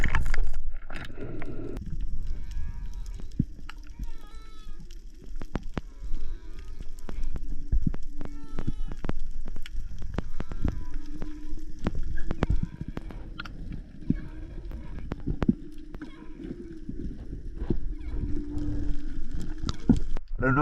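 Many whales call underwater during a dive, with drawn-out moans and rising and falling whistles layered over a constant low rumble and scattered sharp clicks and bubbly pops.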